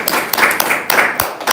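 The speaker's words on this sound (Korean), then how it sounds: "박수 한번" An audience at a university research seminar claps in a short burst of scattered, uneven hand claps, fairly close and loud.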